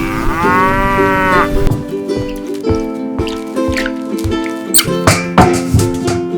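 A cow moos loudly and close in a barn, with a long, drawn-out call followed by shorter animal sounds and clattering, and no talk over it.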